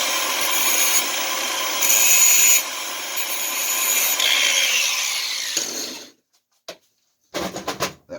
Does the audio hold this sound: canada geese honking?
no